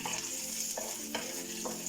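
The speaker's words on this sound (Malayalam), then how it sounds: "ഇങ്ങനെ ചെറുതായിട്ടൊന്ന് വാട്ടിയെടുത്തതിന് ശേഷം മറ്റുള്ള ഇൻഗ്രീഡിയൻസ് ഇടാം" Ingredients for an oats idli chutney sauté in a pan with a steady, soft sizzle, broken by three brief scraping stirs of the spoon that come at roughly even gaps.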